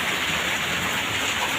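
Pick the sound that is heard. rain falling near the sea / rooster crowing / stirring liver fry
rain falling near the sea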